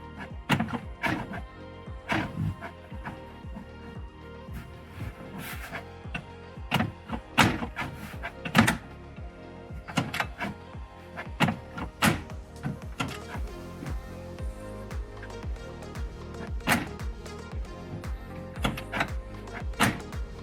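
Glove box door on a Chevy SSR opened and shut again and again, giving a steady run of sharp plastic clicks and soft thunks close by, with no voices.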